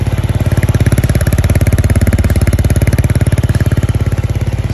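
A Yamaha XSR 125 motorcycle fitted with a Leo Vince LV One Evo exhaust idles close by, its steady, loud, rapid thumping pulse holding an even rhythm throughout with no revving.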